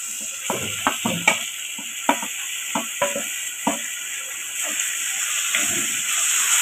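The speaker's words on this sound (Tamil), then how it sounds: "அஞ்சு நிமிஷம் நல்லா வதக்கலாம்." Tomatoes sauté in a clay pot for a sankara fish curry, a soft steady sizzle broken by scattered scraping stirs and spoon knocks, close and moderately loud with no talking.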